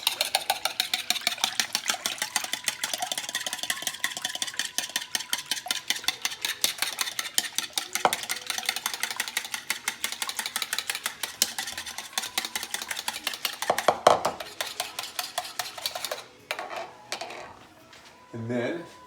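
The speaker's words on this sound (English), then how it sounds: "Whisk." Whisk stirring blueberry pancake batter made with milk and Kodiak pancake mix in a bowl: rapid, steady rhythmic clicking and scraping close by for most of the time, slowing and becoming irregular toward the end.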